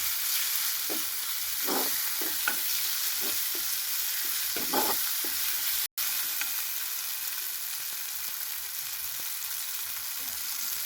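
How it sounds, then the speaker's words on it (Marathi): Chicken pieces frying again in oil in a home kitchen, a steady close sizzle throughout with a few soft stirring scrapes early on and one brief dropout. "आता पुन्हा तरी पण ऑइलमध्ये परतून घेत आहे मी"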